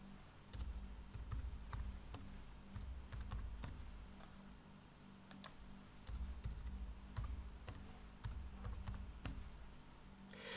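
A computer keyboard is typed on steadily for about ten seconds, with irregular soft key clicks over a low background hum and no talking.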